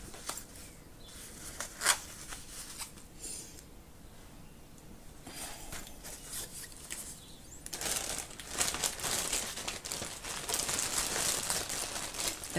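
A plastic storage bag crinkles and rustles as it is handled, with soft intermittent crackles at first and then louder, continuous crumpling close by.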